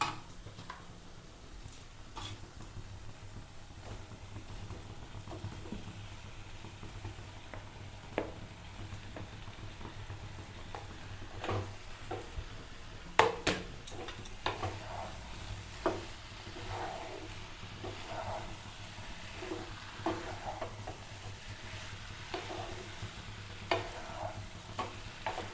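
Pointed gourd and potato pieces stirred and frying in a cooked spice paste, a soft continuous sizzle with scattered ladle taps and scrapes, close by and fairly quiet, no voices.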